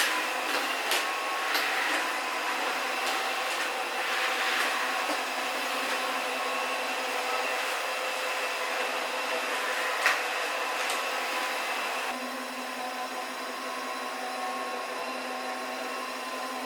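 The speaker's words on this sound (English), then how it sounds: "the Dreame Aero wet dry vacuum cleaner" A Dreame Aero wet-dry vacuum mop runs its self-cleaning cycle with a steady, close whirring drone and a few faint clicks. The pitch shifts slightly toward the end, and no one speaks.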